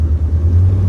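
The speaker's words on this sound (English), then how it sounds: "I didn't even step on it hardly. It's just wheeling the tires." The 455 V8 of a 1972 Oldsmobile 442 convertible rumbles loudly at close range as it spins its tires, a heavy low growl with a brief dip.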